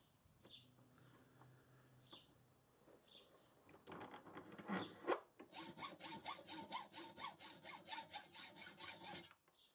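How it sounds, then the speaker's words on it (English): A hacksaw cuts the bottom edge of a metal wing nut held in a vise, first a few scattered scrapes, then a steady run of rapid, evenly spaced rasping strokes close up. "now we can cut the bottom edge of the wings off at an angle"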